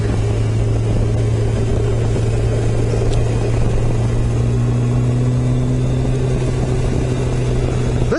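A Kawasaki ZG1000 motorcycle engine holding around 3,500 RPM on a rainy night ride: a loud, steady, smooth hum with a constant pitch, plus a faint rising tone joining partway through and road and wind noise underneath.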